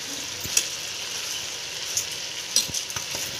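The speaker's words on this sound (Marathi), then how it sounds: "तांदूळ पण पुढे आपल्याला परतून घ्यायचे, अगदी एक ते दीड मिनटं आपल्याला परतून घ्यायचे" Washed rice being sautéed in oil with peas for Maharashtrian-style masala matar pulav, a continuous moderate sizzle with a few soft stirring clicks scattered throughout.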